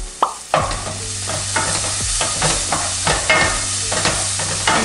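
Garlic goes into onions frying in a pan for a Filipino kaldereta, making a loud, continuous close-up sizzle broken by frequent sharp clatters and scrapes of a stirring utensil.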